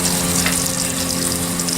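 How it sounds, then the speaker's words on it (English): Steak sizzling in butter in a hot pan while being basted, a steady loud spitting hiss with a low continuous hum beneath, no voices. "Start basting it with this butter."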